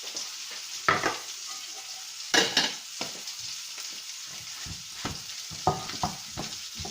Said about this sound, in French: Je vais chauffer 2 tomates